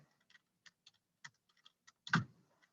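Someone types the word 'spring' into a computer while identifying plants. About a dozen sparse, crisp key clicks sound close by in a quiet room, ending with one heavier thump of a key.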